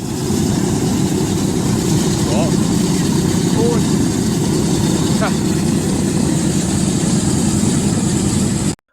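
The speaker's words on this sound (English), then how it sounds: "This C-47 beauty since World War II is waking up for the first time in 10 years" A World War II C-47 aircraft's radial engine starts after ten years idle, a loud, steady low rumble holding throughout with faint chirps on top.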